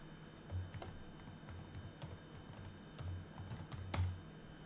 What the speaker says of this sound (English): Or maybe I'm just typing the wrong password.